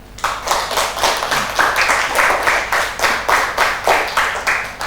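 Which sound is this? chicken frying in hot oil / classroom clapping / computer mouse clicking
classroom clapping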